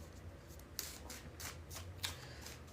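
A deck of cards being shuffled up close, with several quick riffling bursts and a couple of sharp snaps as the cards fall together, quiet and without talking.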